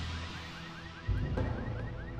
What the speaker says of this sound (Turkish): Bizim arabanın alarmı çalıyor.